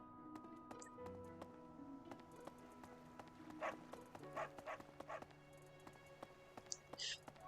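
Dogs in the video game Fire Emblem: Three Houses give a few short, faint barks and yips over steady game music and ambient sound.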